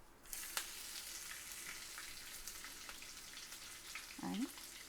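Chopped green chilies fry in hot oil with roasted black gram, giving a steady, fairly quiet sizzle with a few crackles and a brief clatter near the end.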